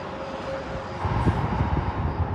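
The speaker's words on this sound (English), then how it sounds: "See those cars coming down, those trucks?" Cars and trucks roll down a hill in a continuous broad roar of traffic that swells and grows louder after the first second, with no voices.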